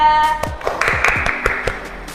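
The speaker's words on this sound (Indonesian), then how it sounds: "Kasih tepuk tangan untuk Wida." A classroom of students gives a short round of applause for a classmate, a handful of separate claps ringing out loosely over a couple of seconds.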